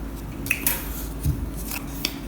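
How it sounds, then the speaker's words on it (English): Scissors snip off excess tape hanging over an edge during a classroom puppet-theater craft, giving a few short, quiet cuts over a steady low room hum. "you just get the scissors and just cut it off"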